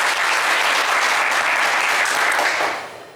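A French television game show studio audience applauds loudly and steadily, a dense wash of clapping that holds for several seconds before fading out at the end.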